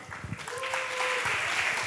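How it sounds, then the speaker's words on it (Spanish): Audience applause at a year-end school music concert, greeting a teacher: steady, fairly loud crowd clapping filling the whole moment, with a brief sustained tone and low murmurs underneath. "Un aplauso para Leo."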